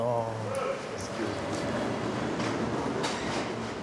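Subway train heading to the Bronx, a steady loud rumble of a moving carriage with faint rail clicks, and people talking over it.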